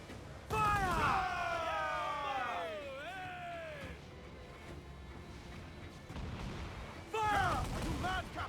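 Ship cannon fire in Assassin's Creed IV Black Flag, with loud booming blasts at the start and again near the end, a rumbling lull between them, and shouted voices mixed in.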